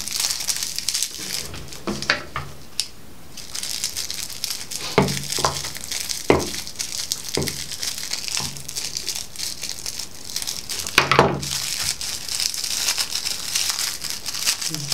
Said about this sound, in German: Herzchen fertig, es knistert.